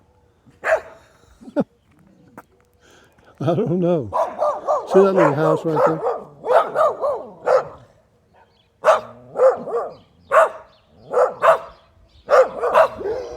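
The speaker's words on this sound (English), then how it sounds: "there's some more dogs" Several dogs, an old basset hound among them, bark in repeated bursts at moderate distance, a steady run of yaps and deeper woofs, with people chatting over the barking during an outdoor walk in Capitan, New Mexico.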